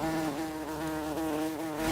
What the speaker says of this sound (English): Oh, and the bees there.